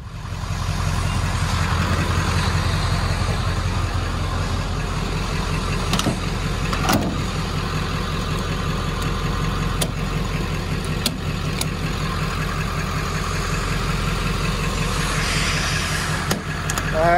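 A 1996 Ford F-250 pickup's 7.3L turbo diesel running steadily, a continuous low rumbling drone with a faint ticking clatter, close and constant throughout with no talk.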